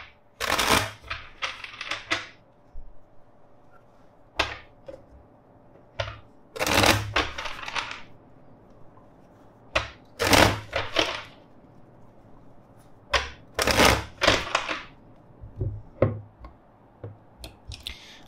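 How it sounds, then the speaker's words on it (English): Several bursts of brisk riffling cards, repeated shuffles separated by short pauses, close and crisp with no talking. "let's shuffle the deck"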